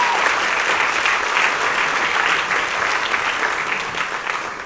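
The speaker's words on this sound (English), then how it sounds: "Give a round of applause for our pranksters out" Sustained applause from a crowd, steady clapping throughout that fades slightly toward the end.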